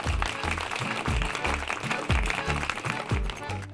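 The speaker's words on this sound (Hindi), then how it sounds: "जोरदार तालियां।" Audience applause breaks out at the opening of the second day of a staged talent competition, a dense steady clatter of clapping mixed with thumping music throughout.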